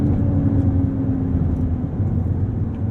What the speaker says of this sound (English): performance start, foot on the brake, hitting the throttle, building up boost, letting go